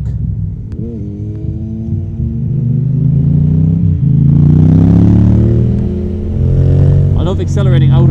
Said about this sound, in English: I love accelerating out of roundabouts.